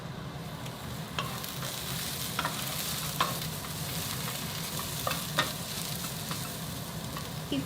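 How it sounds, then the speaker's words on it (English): Pork slices sizzle steadily in a hot pan for twice-cooked pork, with a constant frying hiss broken by occasional scrapes and taps of a utensil stirring, heard close and moderately loud without talk. "I'm frying this"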